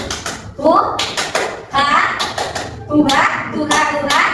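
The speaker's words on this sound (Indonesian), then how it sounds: "kita mulai dengan tepuk tangan dulu" A classroom of students claps in rhythm together, a run of sharp, close hand claps in short patterned bursts, with voices and shouting mixed in.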